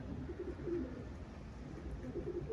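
Homing pigeons coo in low, soft bursts that repeat in short phrases over a quiet, steady background hiss.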